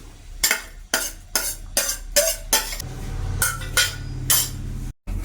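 A spoon stirs kanthari chili leaf thoran with turmeric, garlic and crushed kanthari chilies in a cooking pan, about ten rhythmic metallic scrapes and clinks over a low sizzle.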